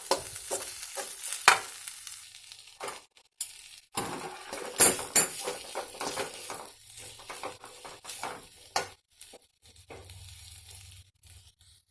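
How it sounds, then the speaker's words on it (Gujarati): A spoon stirs orange food colour through cooked rice in a pan, giving a series of scattered scraping and clinking strokes with soft gaps between them, fairly quiet and without talk. "હવે તેમાં કેસરી કલરનો ફૂડ કલર એડ કરી અને સારી રીતે મિક્સ કરી લઈશું"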